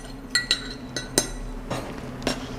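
Spoon stirring a cold brew coffee drink with sugar syrup in a glass, a handful of bright clinks at uneven intervals over a quiet background hum.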